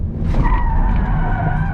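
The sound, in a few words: Citroën C4 Cactus tires skidding under handbrake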